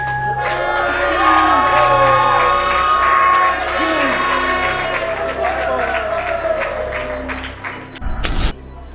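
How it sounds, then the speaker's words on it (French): At an event honouring a woman, a crowd cheers, whoops and applauds loudly. Shouts rise over the clapping, and a brief sharp burst comes near the end. "applaudissons très fortement pour Madame Kamerhe Amida, très fortement."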